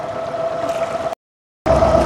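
A large yacht motors fast under engine power at sea, its steady engine drone and water rush close and loud, broken by a brief gap of silence.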